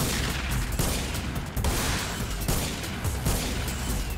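Dense, continuous gunfire and explosive bursts fill a cutscene from the video game Shin Megami Tensei: Digital Devil Saga, loud and unbroken throughout, with no talking.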